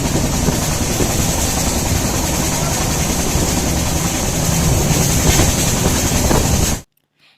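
A moving train rumbles and roars continuously from inside a carriage on the way to Visakhapatnam, loud and steady with wind noise, cutting off abruptly near the end.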